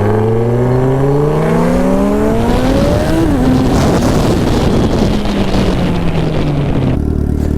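An 800hp Cadillac CTS-V running on ethanol revs hard and accelerates, its loud engine note climbing through the gears with a shift, heavy wind buffeting throughout before the roar abruptly drops off.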